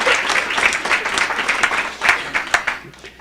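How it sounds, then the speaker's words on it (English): An audience at a public listening session on school start and end times applauds students, a dense burst of clapping from many hands that stays lively throughout and softens slightly toward the end. "Let's give our students a round of applause."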